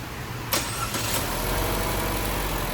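A Chevy Trax engine with a P0171 code and suspected bad PCV valve cranks and catches with a brief burst, then settles into a steady, noisy idle that runs on without voices.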